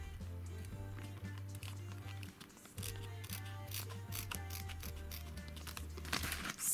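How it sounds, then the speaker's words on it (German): Scissors snip through duct tape while crafting a bag from a zip-lock pouch, quiet crisp cuts and rustling tape over a low steady hum, no talk. "Und hier schneide ich einmal vorne ab."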